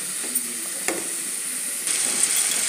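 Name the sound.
frying chopped ponnaganti greens in oil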